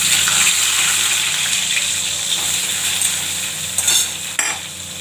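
Prawns frying in a pan for jackfruit curry, a loud, steady close hiss of hot oil with a few faint stirring scrapes near the end and no voices.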